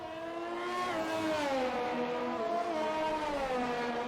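Ferrari Formula 1 car in a racing video game screaming at over 300 km/h, a steady high-pitched engine whine with rising and sliding harmonics, loud and continuous with no talk.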